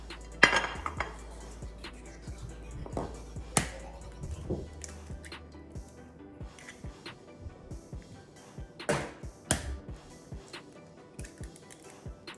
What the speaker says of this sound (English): I'm gonna put 3 eggs inside of here.